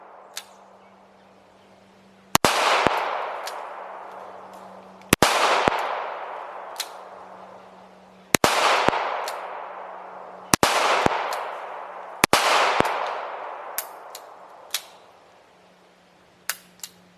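Six sharp, loud gunshots from a Smith & Wesson K-frame Model 12-3 revolver fired at about three yards, spaced a few seconds apart, each ringing out and decaying, with fainter distant shots from other shooters between them.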